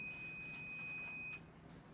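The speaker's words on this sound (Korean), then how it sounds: "헬멧을 쓰지 않으면 부저가 울리고" A steady, high-pitched electronic buzzer tone from an Arduino-controlled electric kickboard, warning that the helmet is not worn, sounds continuously, then cuts off abruptly, leaving quiet background.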